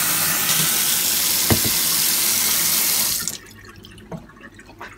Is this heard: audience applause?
no